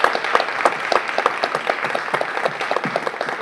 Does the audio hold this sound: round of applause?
yes